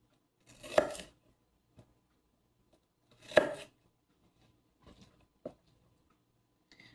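A knife chopping onions: two crisp, distinct cuts about two and a half seconds apart, followed by a few fainter taps, close by in an otherwise quiet kitchen.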